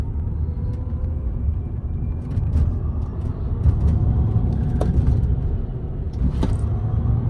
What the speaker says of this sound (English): Night drives in the Cybertruck are also so much fun.